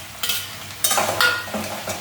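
Bitter gourd slices with their seeds added to chillies frying in a pan, a close sizzle with several sharp scraping stirs, no voices present.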